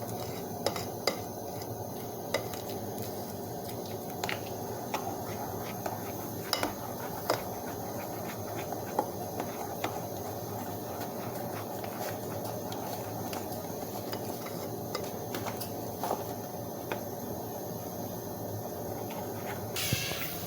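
A pan of onions frying while being stirred during preparation of a spinach börek, with scattered clinks and scrapes of a utensil against the pan over a low steady background, moderately quiet with no talk.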